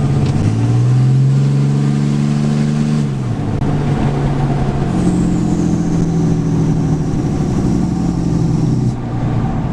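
A 2008 Ram 2500 with a 6.7 Cummins diesel drones loudly and continuously, its engine pitch falling and rising as the exhaust brake works, with a faint high whine joining partway through.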